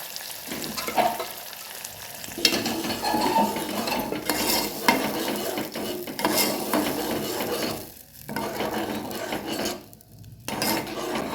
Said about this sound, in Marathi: थोडीशी मोहरी, थोडासा कढीपत्ता। आता आपण डाळ टाकूया।